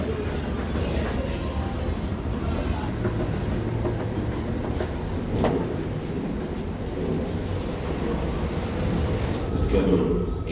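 An Amtrak or SEPTA train at Philadelphia station produces a steady, loud rail rumble with rolling wheel noise that carries throughout, without any clear break.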